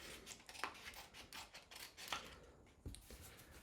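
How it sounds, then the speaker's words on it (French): Repeated crisp snips of scissors cutting paper, several quick cuts spread across a quiet background. "des ciseaux, on vient découper cette partie."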